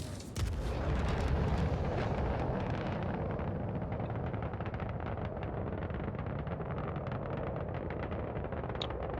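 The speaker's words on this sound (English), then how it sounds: "Fire torpedo." S9 torpedo launched at a Hurricane target six kilometres away in a naval video game, a loud sustained rumbling roar with dense crackling that holds steady for about nine seconds, no talk.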